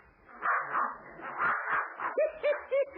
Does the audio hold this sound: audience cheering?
no